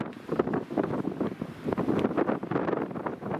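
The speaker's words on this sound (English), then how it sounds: "Getting windy too." Gusty wind buffets the microphone on a rocky mountain peak, a continuous rough rumble with surging gusts that stays close and loud throughout.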